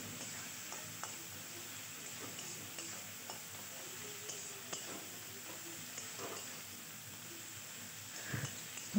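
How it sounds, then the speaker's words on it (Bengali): Spices frying in a pan for ghugni, a Bengali dried-pea curry, with ground cumin, coriander, chilli and black pepper: a soft continuous sizzle with scattered ticks and stirring scrapes close by, steady and low, no voices. "মশলাটা ভালো করে ভেজে নেব।"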